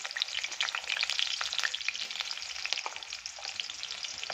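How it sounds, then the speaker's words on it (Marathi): Chopped onion frying in oil left over from frying garlic for a Maharashtrian garlic thecha: a dense, continuous crackle and sputter, fairly quiet and close, with a few faint stirring scrapes and no voices. "आता याच तेलामध्ये आपण एक मोठा कांदा चिरलेला ॲड करूया"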